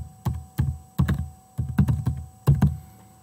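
Keys on a computer keyboard clack in a quick, uneven run of close, crisp taps, with slightly heavier strokes near the end like an enter key press, and no voice over them.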